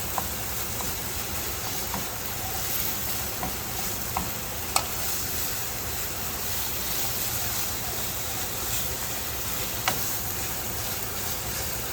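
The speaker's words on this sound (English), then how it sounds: "So I'm going to fry this up" Steady sizzling of cornbread frying in a pan, close and continuous, with occasional small clinks and taps.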